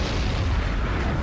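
Artillery barrage at El Alamein, a dense continuous rumble of heavy guns and explosions, loud and booming with low churning roar throughout, no voices.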